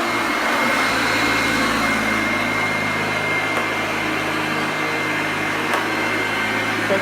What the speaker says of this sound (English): That is a Jaxvax Hoover Junior.